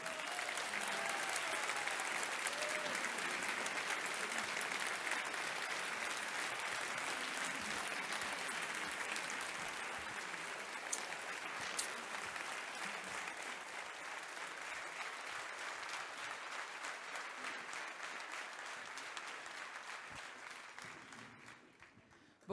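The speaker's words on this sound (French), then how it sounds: "Je vous demande des tonnerres d'applaudissements pour Zoé Constantopoulou." Sustained audience applause at a political convention in a large hall, dense and steady for over twenty seconds, gradually thinning and fading out at the end.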